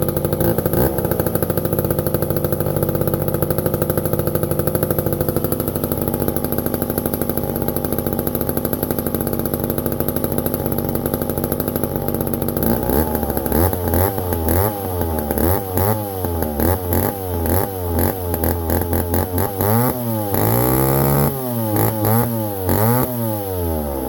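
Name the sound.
1010 chainsaw running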